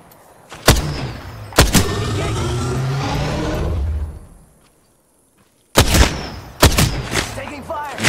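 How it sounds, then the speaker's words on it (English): Gunshots in Apex Legends on the World's Edge map, several sharp loud cracks spaced apart with a rumbling stretch between them and a gap of near silence, voices talking in places. "Taking fire."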